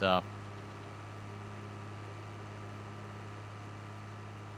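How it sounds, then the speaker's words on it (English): A John Deere forage chopper engine in Farming Simulator 22 drones steadily at idle after a brief louder burst at the start, a constant mechanical hum with no speech. "we'll see how this does here on this John Deere chopper."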